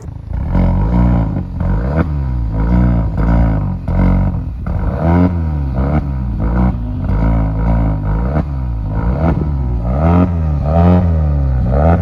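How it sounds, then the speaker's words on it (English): Exhaust of a GAC Motor GS3 Emzoom SUV revved repeatedly, loud close rasping bursts rising and falling in pitch as the engine climbs and drops, with clattering idle between blips and no talking. "And the exhausts do sound okay, or they do make a sound."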